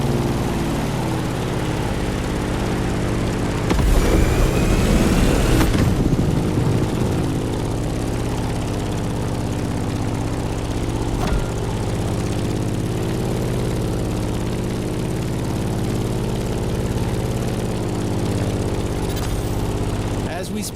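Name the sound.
Grumman F8F Bearcat propeller plane engine in The Crew Motorfest video game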